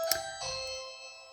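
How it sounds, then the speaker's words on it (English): A doorbell chimes once with a bright ding followed by a lower dong, the tones ringing out clearly and decaying slowly in a quiet room with no one talking. "It's the doorbell."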